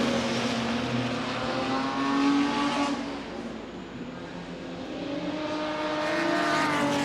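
A white Sadler with a blue stripe and other race cars at the Goodwood Revival's Sussex Trophy race roar and rev through gear changes, engine pitch rising and falling loudly as cars pass and pull away.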